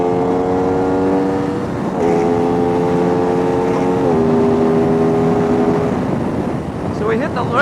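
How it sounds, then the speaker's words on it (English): A loud, close engine on an RS660 drones at high revs into the rev limiter, its pitch stepping down twice in steady sustained tones before easing off near the end. "So we hit the rev limiter."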